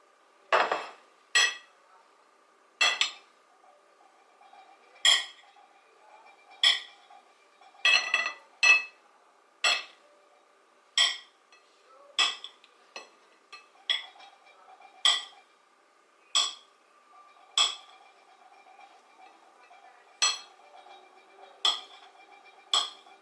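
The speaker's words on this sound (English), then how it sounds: "Just cut up the eggs in chunks." A knife clinks repeatedly against a plate while cutting peeled boiled eggs into chunks, giving about twenty sharp, close taps at an uneven rhythm with quiet pauses between them and no talking.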